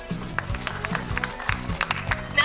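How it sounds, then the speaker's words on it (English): Audience applause at a film press conference for the producers UTV and Red Chillies, a scattered patter of claps with a few sharper slaps over low thumps and murmur. "give a round of applause to them"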